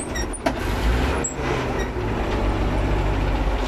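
A loaded tractor engine-brakes downhill in fourth gear while hauling wheat, its steady low diesel drone continuous and close throughout, with a brief hiss and knock near the start.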